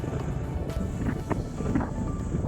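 Wind blows steadily outdoors on an overcast day, a constant low rumble buffeting the microphone for a couple of seconds with no voices.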